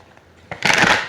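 Cards riffle and shuffle in a quick, crisp burst after a moment of near quiet, close and clear.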